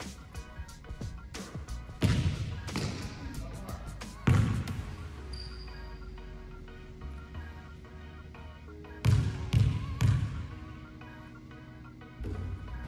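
A basketball thumps and bounces on a hard court in scattered bursts during free throw practice, with rim clanks and faint voices in a reverberant gym.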